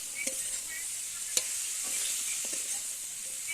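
Spices being sautéed in a pan with eggplant and potato, giving a steady soft sizzle with occasional light clinks of a stirring utensil, alone with no talking.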